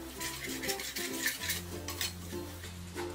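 Half a cup of sugar goes into a pan on a gas stove to caramelise, with soft clinks and scrapes of a metal spoon or utensil against the pan over a quiet hum.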